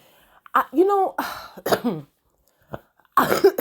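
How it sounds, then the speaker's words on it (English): A few short, harsh coughs mixed with speech, close up, with brief pauses between bursts. "I'm coughing."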